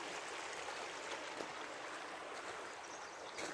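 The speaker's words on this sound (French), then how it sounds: "Magnifique ce petit ruisseau." A small stream flowing along a hiking trail, giving a steady, soft broadband rush of water with no talk over it.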